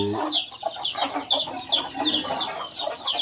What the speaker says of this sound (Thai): เดี๋ยวพามาดู ไก่ครับ ไก่ชนนะที่ฟิวมาไว้ครับ